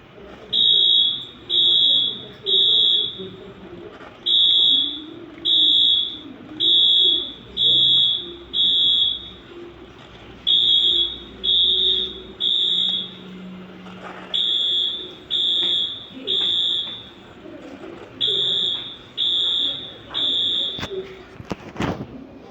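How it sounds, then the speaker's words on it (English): A fire alarm played by a Scratch program and set off by an MQ2 smoke sensor sounds as a loud, regular train of electronic beeps in short bursts with gaps between them, running steadily to the end. "it will trigger the alarm and will play the fire alarm."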